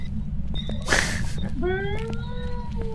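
A cat meows in the video game Phasmophobia: one long tonal cry with rising and falling pitch, heard alone over steady low background rumble, after a brief breathy noise burst.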